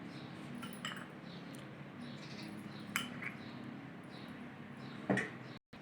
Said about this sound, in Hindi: पहले हम चम्मच की मदद से मिक्स करेंगे, उसके बाद हाथों की मदद से।